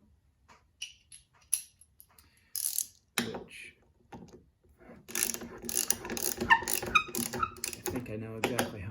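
A ratchet tightens the roof rail bolts on a 2019 Honda Passport, first a few sparse clicks, then steady bursts of quick close ratcheting that grow denser and louder toward the end.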